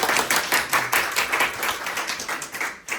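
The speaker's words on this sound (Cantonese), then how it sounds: "俾啲大力啲嘅掌聲得唔得啊" Loud applause from an audience at a property expo seminar in Hong Kong, with dense, steady clapping filling the whole moment and no talk over it.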